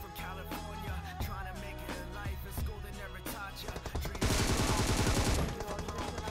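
Rapid automatic gunfire in the battle royale game BGMI, with repeated shots over a steady music-like background, swelling into a denser, louder burst near the end.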